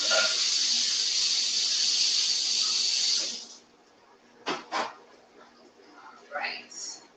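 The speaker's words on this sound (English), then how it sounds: "So you can hear the sizzling smelling good already." Food sizzling in a pan during a live vegan stuffed pumpkin cooking demo, a loud steady bright hiss for about three seconds that then drops away, followed by brief clattering and soft handling sounds.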